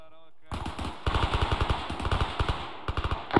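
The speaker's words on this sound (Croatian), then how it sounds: "Otvori paljbu." Gunfire in the military video game Arma III: rapid automatic bursts of rhythmic shots, loud and close, with a brief tone before the firing starts and some voices mixed in.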